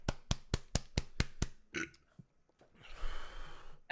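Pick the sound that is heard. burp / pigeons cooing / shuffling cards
burp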